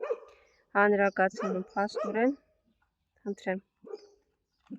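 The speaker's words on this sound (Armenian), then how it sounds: "որ այն շները հաչում են անգամ իրենց կեր գողացողի վրա" Dogs at a feeding spot give short, sharp barks in a few quick bursts, mixed with a person speaking nearby and long quiet gaps between.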